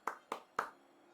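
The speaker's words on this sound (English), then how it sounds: "I think you just have to clap at that." Three sharp hand claps close to the microphone in an even rhythm, followed by quiet with a faint hum.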